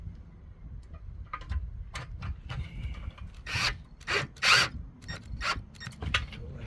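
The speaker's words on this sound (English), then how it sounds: "we'll get a couple of screws into here," Screws are driven into wood during a DIY stove heater door glass seal repair, giving a series of irregular rasping, creaking bursts with small ticks in between, close and fairly quiet.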